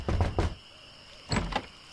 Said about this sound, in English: I think I'll knock.